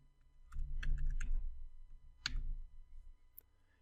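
Keys tapped on a computer keyboard while entering a word into a spreadsheet cell, a short close burst of clicks in two quick clusters, with no talking.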